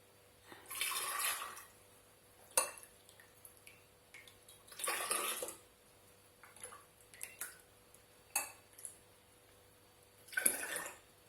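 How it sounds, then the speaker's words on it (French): Homemade mint iced tea pouring through a funnel into a bottle, heard as several separate bursts of splashing liquid between quiet pauses, with small drips and clinks in between. "moi j'utilise mon entonnoir pour verser dedans la bouteille"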